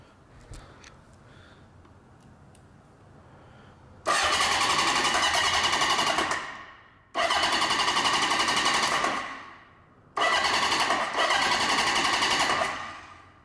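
Old Honda CB750 custom motorcycle engine cranking in three long bursts of loud whirring starter noise, separated by short pauses, without catching.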